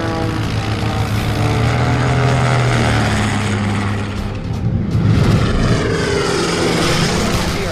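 German Fokker Dr.I triplane in flight, a loud propeller engine drone whose pitch shifts as the aircraft turns and passes close by, with no voices over it.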